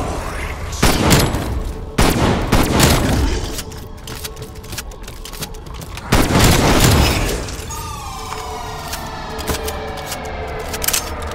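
In the Call of Duty Cold War video game, a grenade blast and gunfire sound as loud booming shots and explosions, repeated several times, followed by a ringing tone over the lingering rumble.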